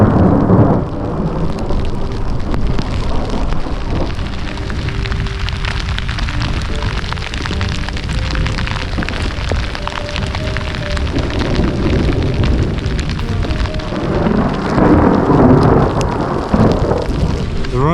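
Heavy rain pours steadily while low thunder rumbles and rolls throughout, swelling louder near the end.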